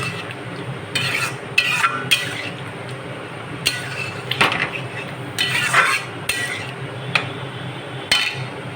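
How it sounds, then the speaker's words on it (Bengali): Ghugni ingredients being stirred and sautéed in a pan: repeated scraping strokes of a spoon against the pan over a low steady sizzle, close and moderately loud, with no voices. "এগুলো ভালো করে নাড়াচাড়া করব সমস্ত উপকরণগুলো যাতে ভালো করে মেশে তার জন্য ভালো করে একটু কষাতে হবে"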